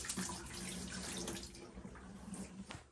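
Water pouring out of a carbon filter housing from a reverse osmosis system into a sink, a close gurgling splash that runs steadily and tapers off near the end.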